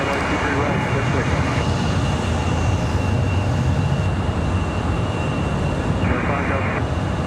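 A Delta CRJ regional jet takes off at Raleigh-Durham airport, a steady, loud broadband engine roar held through the whole stretch without letup.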